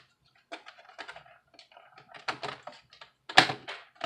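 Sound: snapping Toshiba Satellite laptop cover back into place

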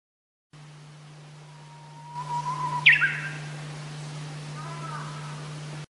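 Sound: bird chirping

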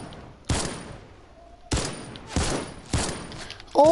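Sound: gunfire resembling an AK rifle in a video game

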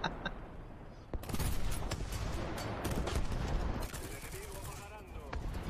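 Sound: tank gunfire in the video game War Thunder

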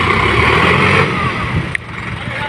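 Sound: Sonalika DI 50 tractor engine stuck in a field

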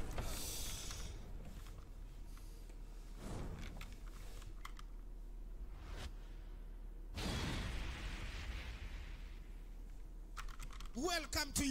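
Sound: computer keyboard keys pressed while playing Tekken 7

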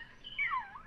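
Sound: bird calls on a cassette recording in a video game

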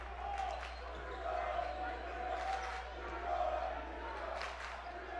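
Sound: loud crowd at a high school basketball game

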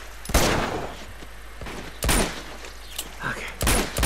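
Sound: gunfire from the video game Uncharted 2

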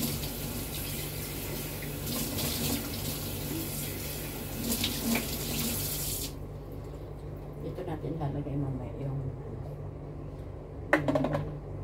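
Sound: washing a cooking pot under tap

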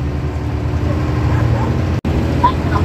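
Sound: dogs barking while running behind motorhome

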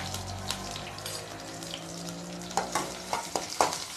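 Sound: onions and mustard seeds frying in oil in a pan

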